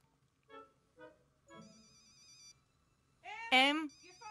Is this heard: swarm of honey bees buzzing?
no